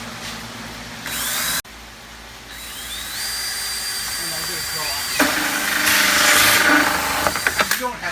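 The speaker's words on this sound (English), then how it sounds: "We'll be drilling a hole here with PVC to come through." A power drill whines in bursts while boring a hole for PVC pipe in a greenhouse wall, rising in pitch as it spins up, then rough grinding as it cuts; close and loud with no talk.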